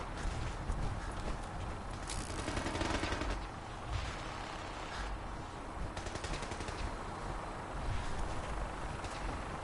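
Gunfire in Fallout 4 rattles in dense rapid bursts over a noisy, busy backdrop, rising and falling in intensity with no talk.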